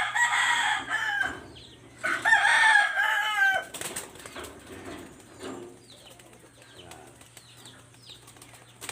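Pigeons in a loft give several loud, close calls at first, then softer scattered cooing and rustling continues in a quiet room.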